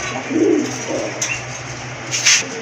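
A pair of pigeons coos nearby, giving two soft, low coos in quick succession followed by a few faint higher chirps.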